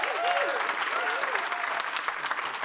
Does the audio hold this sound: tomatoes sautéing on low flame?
no